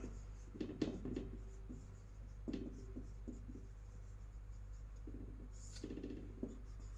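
Pen on paper or board writing out a name, scattered short scratchy strokes in irregular bursts with pauses, faint and close over a constant low hum, no speech.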